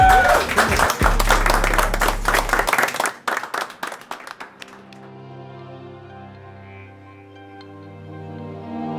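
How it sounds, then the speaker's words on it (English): Small group clapping loudly for a few seconds, thinning into scattered claps and fading under a swelling musical tone that carries to the end. "Big applause for everybody."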